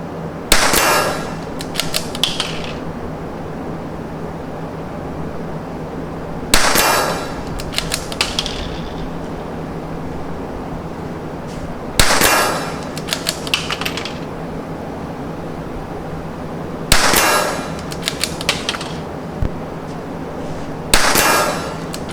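A .22 LR rifle, CZ or Tikka, fires at a target outdoors: five sharp cracks spaced several seconds apart, each followed by faint metallic pings and clatter, with steady background noise between.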